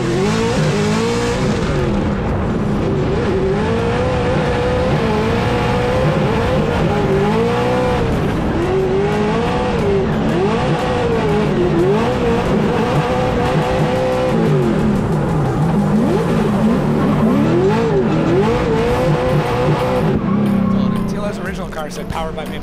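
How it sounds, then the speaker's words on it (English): A United States Army BMW drift car at a Formula Drift event in Long Beach, its engine revving hard and wavering up and down in pitch as it slides, loud and continuous, with tire noise under it. "That was real precision driving there from O'Sully in that United States Army BMW"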